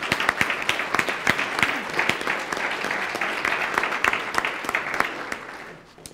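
Applause from an audience at an early child care and education event, a steady wash of clapping with a few sharp individual claps standing out, holding fairly loud before thinning and fading at the end.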